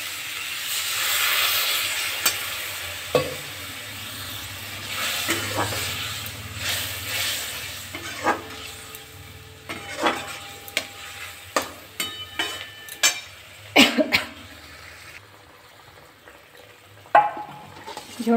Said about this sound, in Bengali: ঝোলটা আমার ফুটে উঠেছে